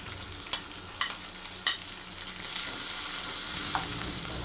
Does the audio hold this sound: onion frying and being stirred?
yes